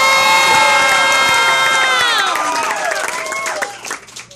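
Comedy show audience cheering loudly, with high whoops, hoots and hollering over a crowd roar that stays strong and then thins out toward the end.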